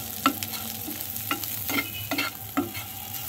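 Scrambled egg for prawn fried noodles is stirred in a pan, with a faint sizzle under a series of quick, evenly spaced scraping strokes.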